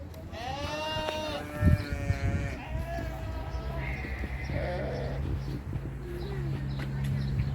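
Several sheep bleat close by, overlapping cries over outdoor background noise, with a few bird calls and quieter sounds in between.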